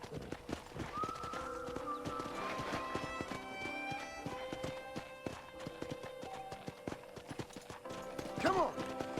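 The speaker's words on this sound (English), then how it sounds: "let's see if you can still ride a horse" Horse hooves clip-clop at a walking pace in the Xbox 360 video game Red Dead Redemption, a rhythmic series of close hoofbeats with a brief whinny near the end.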